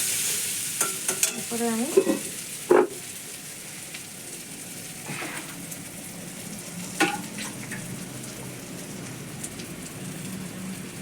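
Chicken curry masala sautés in a pan for an egg curry, giving a soft, steady sizzle broken by a few sharp scrapes of stirring; a voice says a couple of words.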